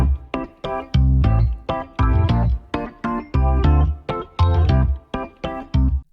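Muted Chapman stick style bass notes pulse rhythmically beneath a four-bar Rhodes electric piano chord phrase, the two layers forming a bouncy, choppy groove with no voices present.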